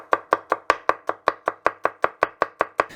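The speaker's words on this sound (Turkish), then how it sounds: "Bir adet sarımsağımız var. Yine bunu da şöyle küçük küçük doğruyorum." A knife chops a garlic clove finely on a cutting board, about fifteen sharp, evenly spaced taps in a quick, steady rhythm, close and clear with no talk.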